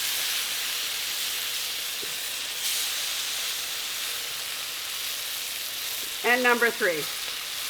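Tuna pieces sear in a hot pan, giving a steady broadband sizzle and hiss throughout with a faint clink, and a brief spoken phrase near the end.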